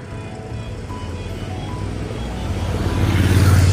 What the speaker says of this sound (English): That's why you are seeing the cars are moving.